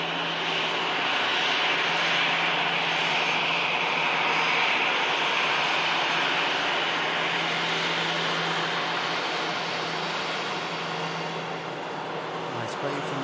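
Jet airliner climbing out at Manchester Airport in thick fog, a steady loud broadband engine roar sustained throughout, with someone talking over it.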